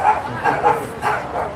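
A golden retriever gives a few loud, close, gruff barks and yips in quick succession, with voices faintly mixed in.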